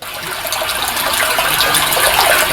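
A stream gushes and gurgles continuously close by, loud churning water with a bright rushing hiss that holds steady throughout, without speech.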